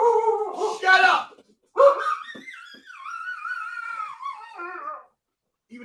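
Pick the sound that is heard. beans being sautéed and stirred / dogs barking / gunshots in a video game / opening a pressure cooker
dogs barking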